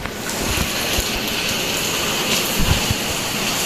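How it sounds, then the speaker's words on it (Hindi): Heavy rain pounds steadily on a house roof, a dense, loud, continuous wash of noise with a few heavier splashes and no voices. "तो इतनी तेज़ बारिश है, हमारी छत से जो है ना वो पानी आ रहा है"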